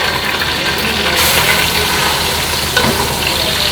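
Minced meat sizzles steadily in a hot pan while being stirred, a loud, continuous frying hiss with faint scraping throughout.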